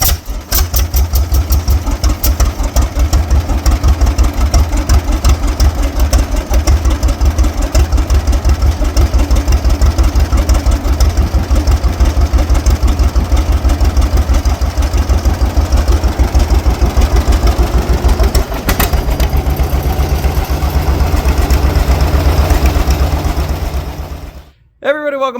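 Antique tractor engine running at a steady idle, a loud, low, rapid chugging pulse that continues throughout, then cuts off abruptly at the end, with some voices under it.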